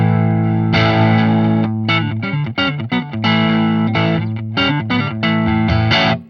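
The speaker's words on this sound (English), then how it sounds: "let's have a listen to the neck on its own." Ibanez Prestige AZ2200 electric guitar on its neck pickup alone, played through effects with mild distortion and chorus: loud, close strummed chords and short rhythmic stabs with brief gaps, no talking.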